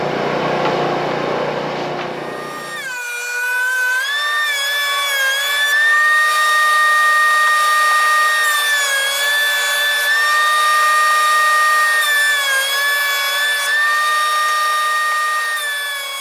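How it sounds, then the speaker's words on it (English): Walnut boards fed through a planer: a loud, steady machine whine with a rumbling onset in the first seconds, then sustained high tonal drone with shifting pitch as boards pass, no voices. "Now we're going to run them through the planer."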